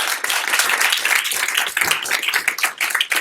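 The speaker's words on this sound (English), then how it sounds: "we should give them a round of applause." Audience at a case-discussion master class breaking into applause, a brisk, dense burst of clapping from many people that holds steady for several seconds, moderately loud and fairly close, no speech.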